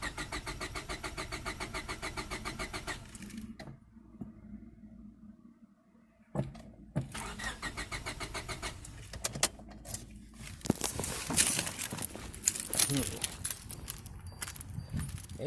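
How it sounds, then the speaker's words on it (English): A 1998 Honda Civic EX engine cranks repeatedly with the starter whirring in bursts, then pops and sputters unevenly between pauses, with a jangle of keys, all close and fairly loud. "That engine still has a lot of life in it. It's got good compression. And judging by the fact that it's popping off, it's got spark."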